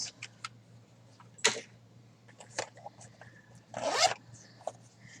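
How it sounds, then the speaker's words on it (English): Small cosmetic bags zipped shut, several quick rasping zipper pulls with one long drawn-out zip near the end, close up, separated by light rustles and ticks over a low hum. "Zip up my little baggies and throw them aside."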